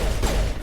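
Dense, continuous burst of gunfire from the Mass Effect video game, loud and steady for well under a second with no talk.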